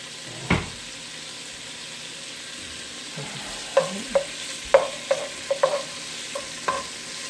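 Bacon starts to crisp in a pan while cooking Southern cabbage, giving a soft, steady background sizzle with a scattering of small pops and crackles and an occasional louder clink, fairly quiet, with no voices.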